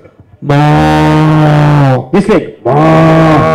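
A man imitates a cow mooing with his voice at a lively comedy event, giving one long, loud, sustained moo, then a short break and a second loud moo.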